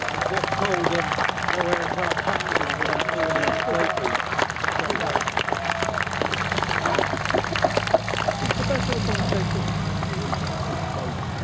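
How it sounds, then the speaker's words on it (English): Crowd applause at the Shoreham Airshow in 2011, with steady clapping throughout, loud and dense, with a faint engine-like drone underneath. "a big round of applause for your commentator for the day, Terence Henderson"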